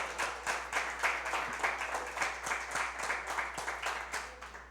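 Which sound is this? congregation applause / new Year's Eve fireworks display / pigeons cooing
congregation applause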